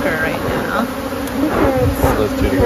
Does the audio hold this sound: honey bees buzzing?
yes